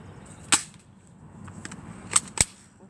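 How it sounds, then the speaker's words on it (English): Airsoft gun firing outdoors at a target branch, three sharp close snaps: one single shot, then a quick pair about a quarter second apart, over quiet ambience. "Watch out, Lucas, you're standing right in front of my shooting thing. I'm shooting"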